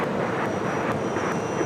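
A Cayman Airways Boeing 737 MAX 8 jet takes off from the south side at LAX, a steady, broad engine roar held at a fairly even level throughout, with no voices.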